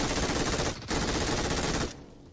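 MG3 machine gun fire in a video game: a dense, continuous burst of rapid shots, loud and close, with a brief gap partway through before the fire resumes and then cuts off.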